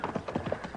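Horses' hooves clip-clop in a steady, close rhythm as a radio drama sound effect for a Western on the trail, alone without talk.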